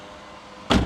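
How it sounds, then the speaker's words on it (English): A Nissan 350Z's power window rolls up with a short, loud electric motor whir that starts abruptly near the end after quiet cabin ambience. "roll my windows up"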